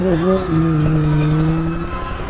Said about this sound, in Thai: สตาร์ท รถ ได้เท่มาก พร้อมซิ่งครับพร้อมซิ่ง